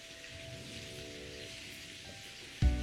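Potatoes frying in hot oil with a pinch of salt for Punjabi aloo dum: a steady, rain-like crackling hiss that runs throughout, ending with a louder thump near the close.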